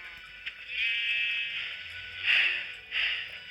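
Sheep bleat in a corral being herded toward slaughter, a few long, wavering, nasal cries that rise and fall, fairly close, over quiet background noise.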